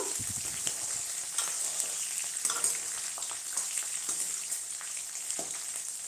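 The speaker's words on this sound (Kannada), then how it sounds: "ಮೆಣಸಿನ್ಕಾಯಿ ಸ್ವಲ್ಪ ಅದು ಎಣ್ಣೆಯಲ್ಲಿ ಬೇಯಬೇಕು" Home-grown green chillies fry in hot oil in a pan for lemon rice, giving a steady, crackling sizzle with small irregular pops, moderately quiet and heard alone.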